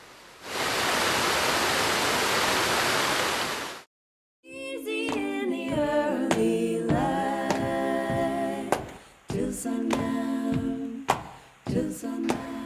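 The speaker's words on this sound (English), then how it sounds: "The waterfalls was in full force." A waterfall in full flow on a rainy, misty day rushes as a steady broadband roar for about three seconds. It cuts off abruptly, and after a short silence, tonal music with plucked notes follows.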